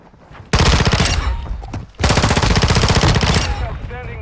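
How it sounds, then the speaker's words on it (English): A P90 submachine gun is hip-fired in Modern Warfare II, letting off two long, loud bursts of rapid automatic fire with a short break between them. "Hip fire, finished that one off too."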